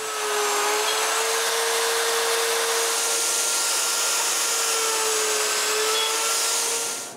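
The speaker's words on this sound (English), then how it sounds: "When it's done, I drill a hole in the end of 4 rails." Steady, loud whirring of a drill running continuously at an even pitch, boring a hole into the end of a wooden rail, with no voices.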